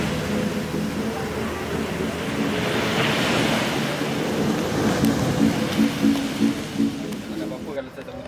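Rain falls at a beach campsite, making a dense, steady hiss mixed with wind and surf noise. It is loud throughout, and people talk over it toward the end.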